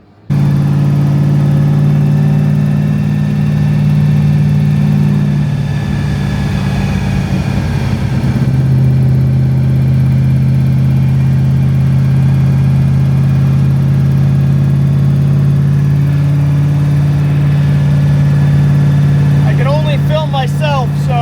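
A 1970 Dodge Charger's supercharged 7.2-litre 440 V8 with a roots blower runs steadily, a loud deep drone with rising and falling whine, heard from inside the car.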